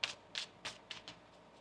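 A deck of tarot cards is shuffled by hand in a quiet room, giving about six crisp riffling bursts spread over under two seconds, fairly close and with no voices.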